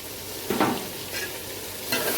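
Vegetables frying with ginger-garlic paste for khichuri, a close steady sizzle broken by three brief scraping stirs of a spatula against the pan.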